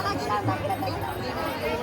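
Dense crowd hubbub fills a packed shop selling women's goods during the Pandharpur vari pilgrimage on Ashadhi Ekadashi, a steady close babble of many overlapping voices with one person speaking clearly over it.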